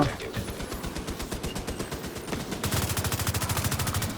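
Rapid automatic gunfire in the online shooter The Division 2, with bursts of steady, evenly spaced shots that grow louder and faster partway through, loud and close, with no talking.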